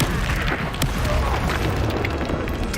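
Confringo blasting-curse explosions from the Hogwarts Legacy video game, a dense run of booming blasts with crackling bursts that fill the whole stretch loudly and continuously.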